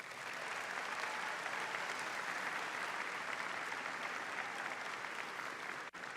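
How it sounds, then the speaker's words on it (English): A high school graduation crowd gives a round of applause for the parents: dense, even clapping sustained at a steady loudness throughout, filling the hall without a break until one brief dip near the end. "Graduates, let's give a round of applause for our parents."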